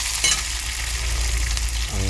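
Egg gravy ingredients sauté lightly in a pan for a Tamil home-style dish, giving a steady, close sizzle and frying crackle throughout with a brief stir near the start and no talking.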